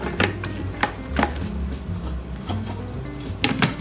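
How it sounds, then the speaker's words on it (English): Wheat flour being mixed into honey wheat bread dough, with a few sharp, irregular knocks and scrapes of a spoon against the bowl over a low kitchen hum, close and moderately loud, with no talking. "now I'm gonna go ahead and add the rest of our wheat flour. Give that a good mix."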